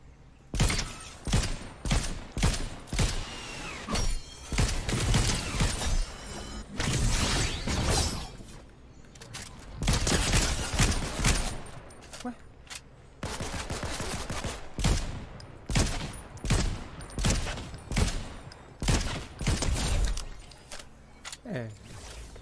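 Repeated gunfire from a weapon in the Fortnite video game, with bursts of rapid shots recurring across the clip and loud, sharp impacts, plus a few scattered mechanical clicks between volleys.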